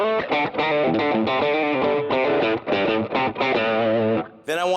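An electric guitar runs through a Persian Green Overdrive (Green Screamer) pedal, playing a loud, driven riff of chopped chords and notes that ends on a sustained bright chord.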